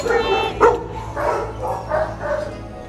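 Rescue dogs bark and yip in a string of short, fairly loud calls, one sharp bark near the start followed by several quicker yelps, with faint background noise.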